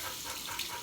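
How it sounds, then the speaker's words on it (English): A makeup brush is rinsed under a running tap, with a steady, fairly faint hiss of water flowing into a sink and no pauses. "I'm going to rinse it off really quick"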